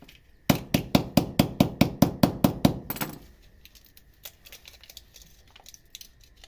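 Rumi Gest Vet cattle medicine is crushed into powder with about ten sharp, rapid, evenly spaced pounding knocks, loud and close, then stops and is followed by faint scraping and light tapping.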